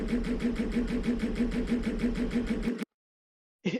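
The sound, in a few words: bike engine warming up and humming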